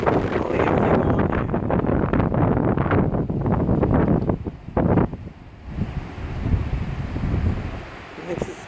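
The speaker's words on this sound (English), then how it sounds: "This is my dogwood blowing in the wind." Strong gusts rush through a dogwood tree in a fall windstorm, a loud, steady roar with buffeting microphone noise that eases after about five seconds into a lighter, lingering hiss.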